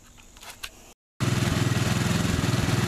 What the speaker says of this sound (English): And I had to turn up the idle a little bit. You can see it's got a little of a ta-ta-thong, you know, almost sounds a little rich.